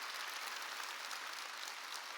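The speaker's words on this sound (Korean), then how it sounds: "박수 치려면 치고 말려면 말고." A church congregation at a Wednesday worship service claps together in a steady, dense patter. The applause sounds soft and somewhat distant and continues evenly for a couple of seconds.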